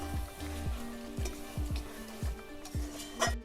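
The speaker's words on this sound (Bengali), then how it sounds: "এবার আমি 5 ফোড়ন, শুকনো লঙ্কা আর গোটা গরম মশলা এগুলো আমি দিয়ে দেবো, ওই তেলে ভাজা হয়ে যাবে" Whole spices and dried red chillies hit hot rendered mutton fat in a pan, giving a soft, steady sizzle broken by several light metallic clinks and stirring taps.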